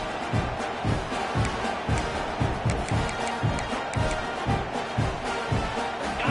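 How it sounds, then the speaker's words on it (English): Loud, dense stadium crowd roar from a football video game, a steady wall of cheering with rhythmic pulses throughout, no pauses. "this crowd is so loud, they better quiet down so they can get the call in"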